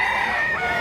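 A rooster at a rural poultry market crows in a loud, sustained, close call filling the whole short moment, with no voices over it.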